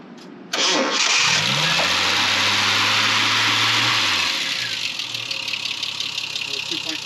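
A restored 1973 Triumph TR6 with an inline six and dual carburetors cranks briefly, catches and fires up, then settles into a steady, loud idle close by, with a voice talking over it.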